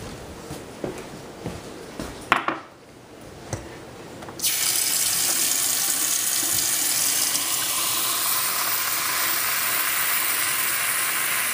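A faucet turns on and water runs steadily into a sink, after a few soft clicks and taps.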